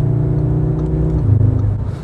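A 2021 Audi S3 engine revs hard and steadily under load on a highway exit, with a loud, continuous low drone that climbs slightly in pitch, close and alone with no talk.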